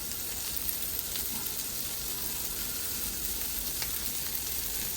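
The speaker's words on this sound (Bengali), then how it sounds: "একটু আস্তে আস্তেই ভাজা ভাজা হোক, তা নাহলে পেঁয়াজটা পুড়ে যাবে" Onion slowly frying in a pan over lowered heat gives off a soft, continuous sizzle, close and steady with faint crackles and no voices.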